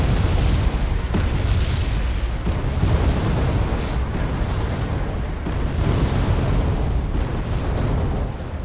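Units firing in the Wargame real-time strategy game: a dense, continuous rumble of overlapping artillery booms and explosions, loud and steady throughout with no talk.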